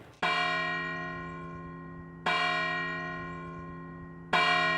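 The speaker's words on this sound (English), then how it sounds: "And when those churches ring their church bells, the effect is simply magical." A large church bell in Braga, Portugal, tolls three times at slow, even intervals, each strike ringing out and slowly fading before the next.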